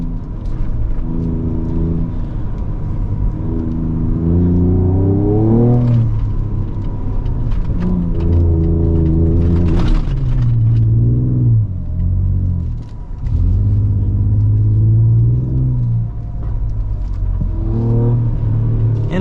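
A 2024 Ford Ranger Raptor drives in off-road mode across sand dunes, its engine rumbling loudly and rising and falling in repeated revving surges as it climbs and settles, heard close and continuous.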